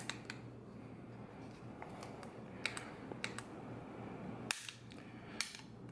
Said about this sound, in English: we're just going to kind of do some light pulls on it